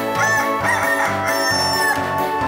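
A rooster's crow rings out over a full musical backing in a stage show, bright and prominent, with rhythmic accompaniment running underneath throughout.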